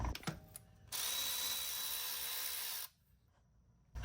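A ratchet with an 8 mm Allen head loosens the fill plug on an electric drive unit, giving a close, quiet, steady buzzing click run of about two seconds between brief handling noises.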